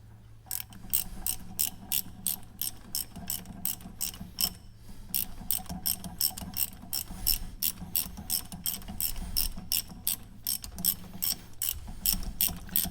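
A hand ratchet winds out long bolts on a BMW 320d M Sport during ABS ring replacement, with rapid steady clicking in close, regular bursts and brief pauses between strokes.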